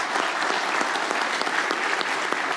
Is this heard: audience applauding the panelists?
yes